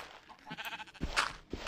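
Goats in Minecraft bleat on a mountainside, several short nasal cries in quick succession, fairly close and clear over a faint background.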